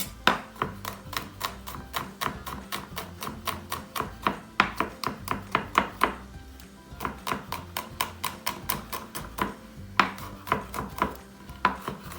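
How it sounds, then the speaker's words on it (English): Rapid, evenly spaced knife chops on a cutting board as garlic is minced for a simple marinara sauce, crisp close taps running in quick bursts with brief pauses, no voices. "I like to do it a nice mince."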